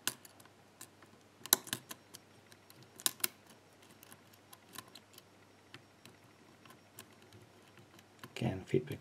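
Sharp little clicks from the pins of a challenge lock being picked, scattered and irregular, faint and close, with occasional quiet handling noise and a brief rustle near the end.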